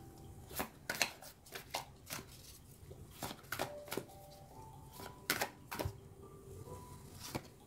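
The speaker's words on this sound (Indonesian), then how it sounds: "aku menarik kartu wisdom ya, atau pesan bijak" Wisdom oracle cards are shuffled and drawn, producing a quick series of crisp, close flicks and slaps in uneven bursts, with faint soft tones ringing between some of the snaps in an otherwise quiet room.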